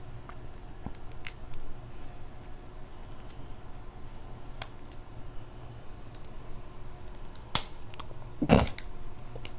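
Scissors cut through king and snow crab shell during a meal, giving scattered sharp snips and clicks with a loud crunch near the end over quiet background.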